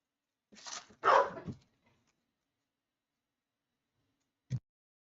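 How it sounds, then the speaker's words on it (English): Dogs bark outdoors at a moderate distance, two or three quick barks close together followed by a long quiet gap and one more short bark. "Clearly we have the dogs barking here."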